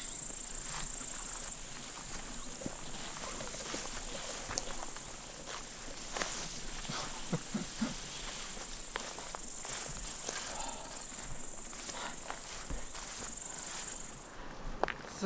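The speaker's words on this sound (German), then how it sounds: "Überall zirpt das." Crickets chirp all across a meadow on a solo overnight hike, a steady, high, shimmering drone that runs throughout, with footsteps and rustling through the grass underneath.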